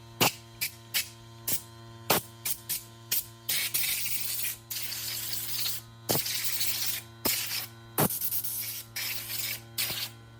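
Brake cleaner sprays in short, sharp hissing bursts and a few longer blasts onto carburetor parts from a 40-year-old motorcycle, close up over a steady electrical hum.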